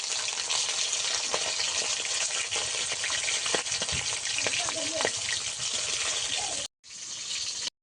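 Bhola fish pieces sizzle and crackle loudly in hot oil for several seconds, a steady dense hiss with occasional pops and utensil scrapes, cutting off briefly near the end before resuming.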